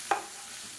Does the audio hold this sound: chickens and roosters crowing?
no